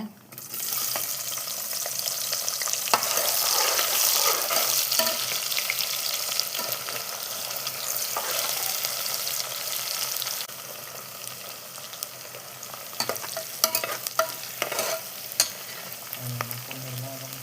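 Sliced onions hit hot oil with cinnamon, cloves, fennel, cardamom and bay leaf for Chennai-style paneer biryani. A loud, steady sizzle runs throughout, later broken by scraping stirs and clinks from the pan.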